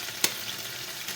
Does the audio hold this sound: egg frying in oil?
yes